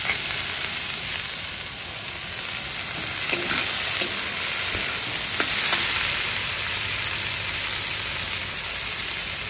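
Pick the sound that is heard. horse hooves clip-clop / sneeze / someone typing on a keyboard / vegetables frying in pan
vegetables frying in pan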